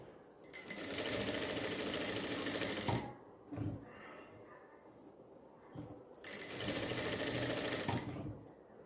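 A sewing machine stitches the back neck of a blouse in two long, loud bursts of steady rapid whirring, with a brief pause between them while the cloth is repositioned, and no talking.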